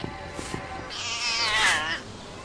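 Cats in a documentary on catnip-like plants meow and caterwaul, a drawn-out wavering yowl rising loud in the middle after a few short soft sounds, close and alone.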